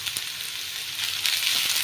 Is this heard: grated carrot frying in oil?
yes